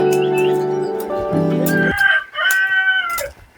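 A rooster crows near Černolické skály on a hillside hiking trail, one long loud cock-a-doodle-doo followed by a shorter crow with clucking.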